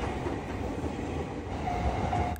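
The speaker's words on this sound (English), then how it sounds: "The frequency of trains means that sometimes by the time one train passes" A Japanese train rolls past on the rails with a continuous, dense rumble and faint wheel noise, steady and fairly close, with no talking.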